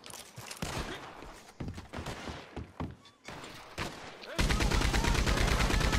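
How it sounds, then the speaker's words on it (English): Scattered gunshots crack in a Red Dead Redemption 2 shootout before a mounted Gatling gun opens up, pouring out a loud, fast, evenly spaced stream of rounds that runs to the end. "Oh, someone's on the Gatling."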